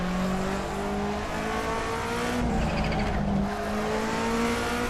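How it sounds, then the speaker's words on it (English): Engine of a race car in the Assetto Corsa sim racing game, revving loud and close, with pitch shifting through downshifts and braking and rising again over a continuous roar. "Listen to that horse in the engine every time we downshift."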